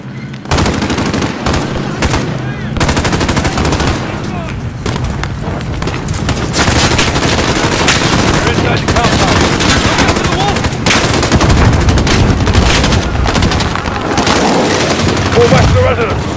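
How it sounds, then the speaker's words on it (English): Sustained gunfire in Call of Duty Modern Warfare during a compound assault mission on PS4 Pro: loud, continuous machine-gun bursts and single shots layered with booms, with only short pauses, running steadily throughout. "Taking fire from the residence."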